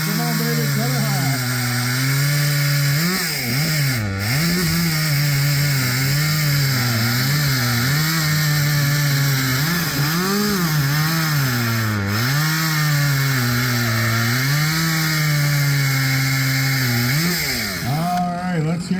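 Chainsaw at a Steamburg, NY chainsaw race screaming through a log at full throttle, its pitch dipping and rising as the bar bites into the wood, loud and close for the whole cut, with brief crowd or voice sounds underneath.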